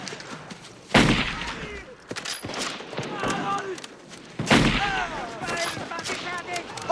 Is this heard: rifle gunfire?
yes